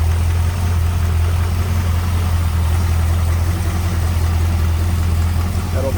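Ford 302 V8 with an Edelbrock intake idling in a 1951 Ford F1 pickup, a steady, smooth, low rumble held close and unchanging throughout.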